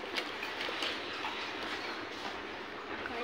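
Rumble of a Roha–Diva local passenger train running on rails between Panvel and Roha, a steady, loud interior noise with no distinct wheel clicks, continuous and unbroken throughout.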